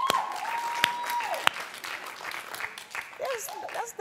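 Studio audience clapping on a daytime talk show in response to a poll about marrying a much younger man, moderate and somewhat thin, with a few sharp claps standing out and a presenter's voice breaking in near the end.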